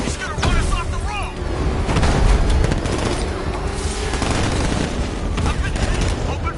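Gunfire in a video game vehicle chase, dense bursts of rapid shots and booms under a roaring engine and constant action noise, with shouting voices over the din.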